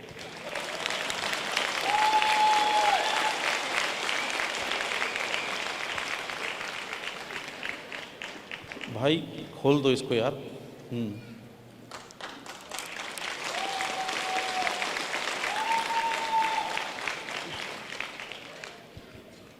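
A seated audience at a motivational speech event claps in sustained, broad applause that rises and falls over several seconds, broken by a short burst of talk in the middle before clapping resumes.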